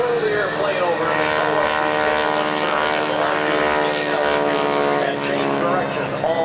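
A propeller airplane flying aerobatics at an air show holds a loud, steady engine drone with a strong buzzing whine, unbroken and continuous, with no pause or clear change in pitch.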